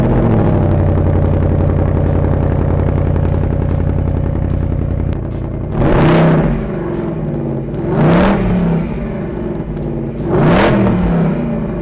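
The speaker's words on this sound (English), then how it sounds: "let's go have a listen at the existing tone of the exhaust" A Ford Mustang with its stock exhaust idles with a deep, steady rumble, then revs sharply three times, each blip rising and falling back to idle, captured up close and loud with no talking.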